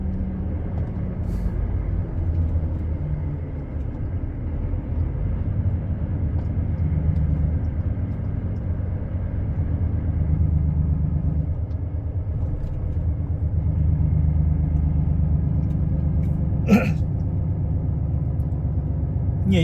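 A car drives on roads toward the A3 autobahn in Germany, giving a steady low engine and road rumble inside the cabin, with a brief sharp click near the end.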